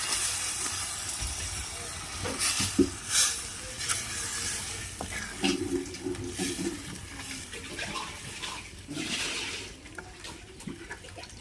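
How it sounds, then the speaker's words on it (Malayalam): Water poured into a pan of heated spices for a village-style Kerala fish curry, a soft steady splash and hiss with sizzling bursts, fairly faint against a busy outdoor background. "ഇനി മീനിന് ആവശ്യമുള്ള വെള്ളം ഒഴിച്ച് കൊടുക്കണം"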